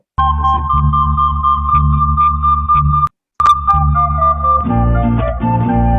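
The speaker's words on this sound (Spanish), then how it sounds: "Ahí se está sumando posiblemente. Es un pequeño eco." A sustained flute tone layered with a delayed copy of itself for an echo effect, the steady pitched note running loud and continuous, broken by a brief gap, then resuming with a shifting, thicker texture.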